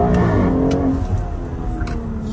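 BMW X3 M Competition SUV engine pulling in its mildest drive mode, a steady close engine drone with gear-related pitch shifts under light acceleration, no talk over it.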